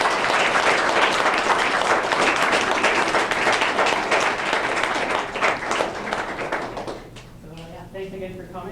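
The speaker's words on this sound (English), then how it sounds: "I was hoping to do a round of applause for the students involved in" An audience applauds students involved in JumboCode at a project presentation event, dense clapping holding for about seven seconds before fading out as a voice begins talking.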